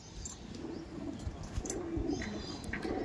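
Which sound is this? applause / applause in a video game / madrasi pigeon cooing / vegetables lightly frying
madrasi pigeon cooing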